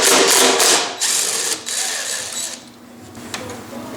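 Ratcheting wrench clicking steadily as it backs out a 10 mm bolt on a Honda HRB216 lawn mower, close and fairly loud, with a few metallic clanks and short scrapes between the ratchet strokes.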